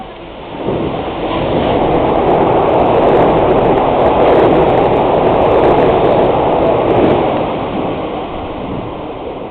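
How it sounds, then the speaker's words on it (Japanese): A Hanshin 5000 series train passes through Ashiya station with a loud, continuous rumble and roar. It swells in quickly, holds for several seconds, then eases off, close by and with no voices over it. "電車が通過します。"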